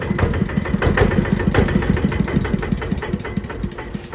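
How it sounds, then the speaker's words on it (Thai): A KRT-140plus multipurpose walking tractor engine runs steadily at idle close by, with a rapid, even knocking putter throughout and no voices. "เครื่องติดง่ายมากนะครับ"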